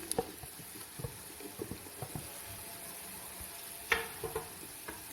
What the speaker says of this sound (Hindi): अब हम इसमें टमाटर और सब्ज़ मिर्चें ऐड करेंगे।